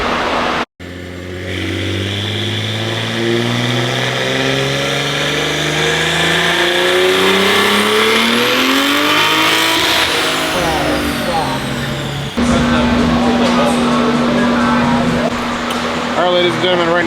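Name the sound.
tuned BMW M4 engine revving during a dyno pull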